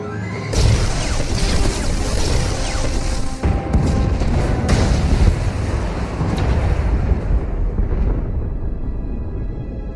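Explosions blow the junctions in the video game Star Wars: The Old Republic, giving a loud, dense booming rumble that runs steadily for about ten seconds, with sharper blasts near the middle before it thins toward the end.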